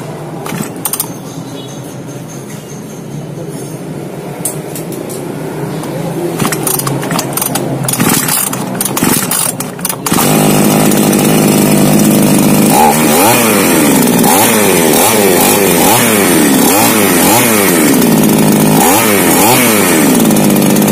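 A small chainsaw engine, freshly tuned at the carburetor, runs loud and close, starting rough and uneven, then settling into a steady high idle with repeated revving surges; a voice is briefly heard.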